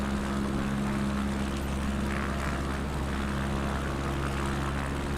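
A propeller aircraft takes off in Microsoft Flight Simulator 2024, its engine droning loud, steady and close throughout with a constant low hum and no talk.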